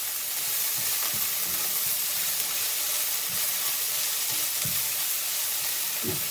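Cabbage dusted with a spoonful of flour fries in a pan while being stirred without stopping, a steady close sizzle with soft scraping strokes of the spoon recurring through it, no voices.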